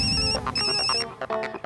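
A mobile phone ringtone rings on speaker indoors, a bright repeating electronic melody in two close, moderately loud bursts, with a short pause between them.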